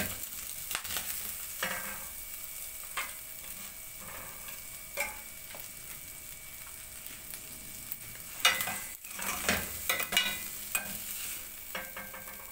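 Sautéed pechay mixture sizzles steadily in a hot pan as it is stirred and transferred into mung beans, with intermittent scraping and clinking of a utensil, fairly close and with no talking.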